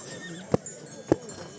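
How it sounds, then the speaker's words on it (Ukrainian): Horses at a mountain horse show in a Ukrainian village, with two sharp, loud hoof strikes or snorts about half a second apart over a low murmur of crowd background. "коників багато."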